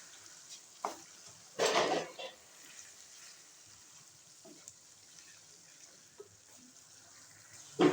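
Masala fried with chickpeas and chicken for Lahori murg channay: a faint, low sizzle runs under occasional spoon stirs and clanks against the pot, one louder scrape standing out, with no clear talking.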